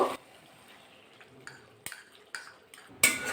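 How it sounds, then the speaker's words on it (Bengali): Cashew and poppy-seed masala scraped and stirred in a pan while cooking dudh potol, with soft scraping under sharp clinks of a spoon against metal, plus a few louder knocks near the end. "আবার একটু নাড়াচাড়া করে নেব মশলাটা ভালো করে কষিয়ে দিয়ে দিতে"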